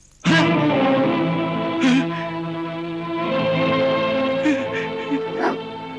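Two black dogs whimper and yelp in drawn-out, whining cries with occasional sharp bark-like accents, heard close and continuous, with a steady tonal backing underneath.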